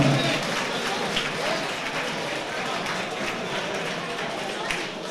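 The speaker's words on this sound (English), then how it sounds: "Please keep your applause roll for our opponent," A boxing club home show crowd claps steadily in a dense, even wash of applause filling the hall, while an announcer speaks over it.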